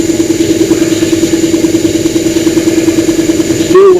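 A belt sander in a workshop runs with a steady droning hum that holds level for several seconds before being cut off near the end.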